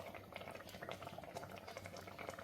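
Mango mulakeshyam curry bubbling in a pan, a continuous close wet blub and pop of a boil with dense irregular bursts throughout.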